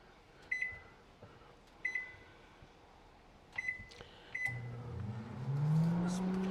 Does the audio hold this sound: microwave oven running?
yes